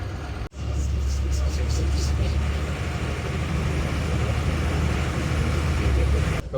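Road traffic passes outside a truck yard by a main road as a steady, loud, continuous engine and tyre rumble with no distinct breaks.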